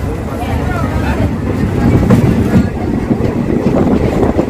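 The Venkatadri Express pulls out of Koduru railway station with a close, low rumble of rolling wagons and wheel clatter, buffeted by wind noise on the microphone, swelling slightly midway and continuing steadily.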